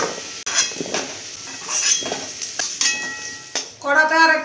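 Fried vegetables, including green beans, are lifted from a hot karahi with a metal spatula: a steady run of scraping and clinking against the pan over a light sizzle, close by, with a voice briefly heard near the end.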